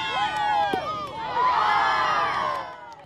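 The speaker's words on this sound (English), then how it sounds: "judging by all the oohs and ahs from the crowd" A crowd of students at a school science demonstration lets out a continuous wave of high oohs and aahs, many voices rising and falling together for several seconds, loud and close.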